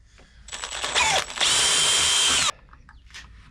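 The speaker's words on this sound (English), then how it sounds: "Drilling out the circuit board here." A power drill bores through a circuit board during a DIY 72V electric bike build, two short bursts whining up and then a steady loud grinding run of about a second before it cuts off abruptly.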